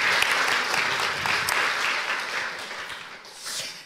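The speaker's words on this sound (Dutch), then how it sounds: "Jullie mogen klappen." Audience applause at an art-criticism event in a hall, a dense, lively clapping from a seated crowd that holds steady for several seconds before thinning slightly.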